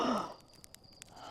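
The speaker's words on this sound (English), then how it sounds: "Yeah, definitely gasping for breath." A character in Outer Wilds lets out a brief, breathy gasp at the start, a quick wheezing rush of air followed by near silence with faint clicks.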